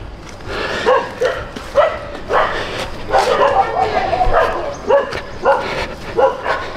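Several puppies yip, whimper and bark in short bursts outdoors on green grass, close and fairly loud, with someone talking over them.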